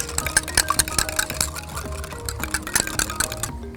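Eggs being whisked in a bowl for asparagus egg drop soup, a quick irregular clinking and tapping of whisk against the bowl, close and fairly loud, over a steady background hum.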